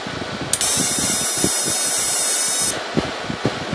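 A Simadre 5200D stick, TIG and plasma welder, faulty and failing to start a TIG arc, gives a steady high-pitched hiss for about two seconds as its trigger is pressed, with scattered clicks and mechanical rattles around it.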